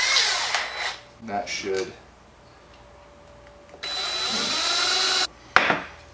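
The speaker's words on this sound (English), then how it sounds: "So I have a 3/4 inch paddle bit." A 3/4 inch paddle bit bores into a wooden mouse trap plank in two bursts, a short earlier whir and a sustained louder drilling run, with brief talk in between.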